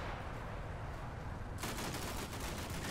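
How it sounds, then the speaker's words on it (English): Rapid bursts of 25mm cannon fire from Bradley fighting vehicles in the war game Combat Mission, a dense continuous fusillade that grows sharper and heavier midway, loud and close with no talk. "who are now in position to smother them with 25mm cannon fire"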